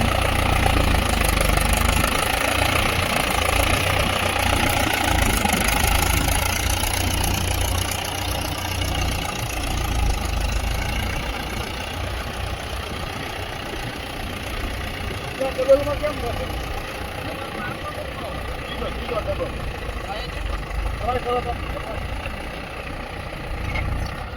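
A Mahindra Yuvo 575 tractor ploughing deep furrows in a field, its engine a steady, close, rumbling drone with a mechanical clatter that holds fairly even throughout, while a voice speaks over it.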